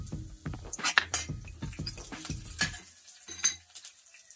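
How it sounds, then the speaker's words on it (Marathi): Cumin seeds and chopped garlic sautéing in a pan for dahi kadhi: soft sizzling and frying under metal clinks and stirring, close and fairly quiet, fading toward the end. "अर्धा चमच जिरे, लसूण कट केलेला परतून घेऊया"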